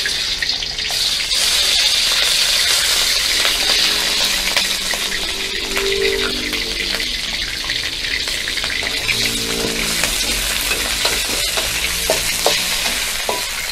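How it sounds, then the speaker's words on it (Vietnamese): Frog meat sizzles and fries steadily in a pan for a Thai-style dish, a constant loud crackle with occasional stirring scrapes and no voices. "món này phải rán chiên con thịt ếch trong một lúc nữa"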